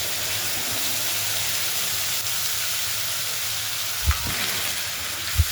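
Onion paste frying in hot oil with bay leaf and whole spices for Bengali prawn malaikari, a steady close sizzle and hiss with a couple of brief stirring knocks near the end.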